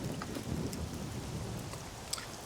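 Rain pours in the survival game Scum, a steady close hiss with a low rumbling undertone and occasional sharper drip ticks, heard alone.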